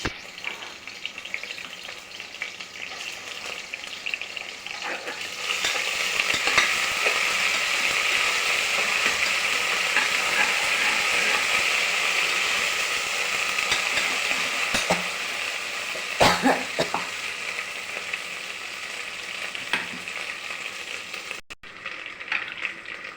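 Ginger and garlic fry in a pan, a bright steady sizzle that swells after about five seconds and holds for most of the stretch, punctuated by occasional scrapes of stirring with a utensil, with no voices.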